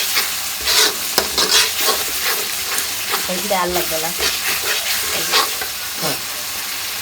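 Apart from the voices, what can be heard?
spices frying and being stirred in pan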